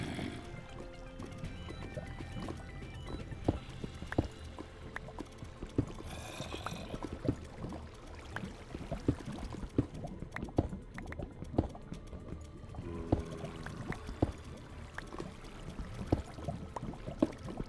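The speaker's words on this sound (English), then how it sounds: "I hear water." Flowing water in Minecraft, a steady low trickling wash that runs throughout, with scattered clicks and small game sounds over it and no talk.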